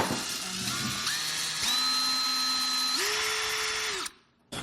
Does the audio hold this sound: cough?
no